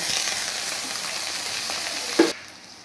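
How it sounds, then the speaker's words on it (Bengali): Onion, tomato and green chilli frying in a pan, a loud, even sizzle with stirring that runs until a brief clatter near the end, after which it drops to a quieter hiss. No one speaks. "ভালোভাবে আমি পেঁয়াজটা লাল লাল করে ভেজে নিচ্ছি"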